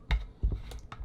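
Close, brief typing on a computer keyboard: a few quick irregular key clicks and thumps in about a second, with no talking.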